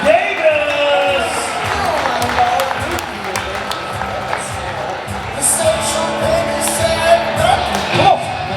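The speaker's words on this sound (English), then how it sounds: "Ladies and gentlemen, give him a big round of applause." Banquet audience at a speedway awards dinner in a stockyards hall applauding their champion, sustained clapping with a few whoops swelling and easing across several seconds, mixed with a voice talking over it.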